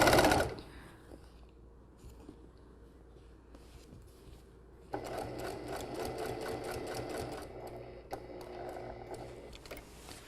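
A sewing machine stitches a pocket onto a scrap of fabric, running in a steady, rapid chatter at close range for about half the time after a short pause.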